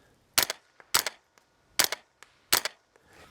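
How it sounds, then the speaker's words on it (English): An integrally suppressed Tippmann Elite ISS fires four evenly spaced shots into a dirt bank. Each shot is a short, sharp, muffled crack with a faint mechanical click after it, close and clear with no voices. "Now I want to shoot it into the bank where you guys can hear just how quiet it is"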